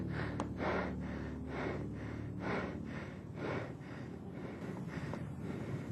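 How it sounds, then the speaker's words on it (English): Heavy, rapid breathing from a frightened person filming a UFO sighting, close to the microphone, with regular gasping inhales and exhales repeating roughly every half second over light wind noise. "the person recording the sighting was visibly terrified, as he can be heard breathing heavily in the video clip"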